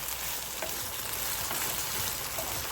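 Rice sizzling in oil in a hot pan for fried rice, a steady dense crackling hiss, close and continuous with no talking.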